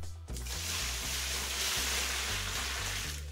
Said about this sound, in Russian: Сначала заливается вода.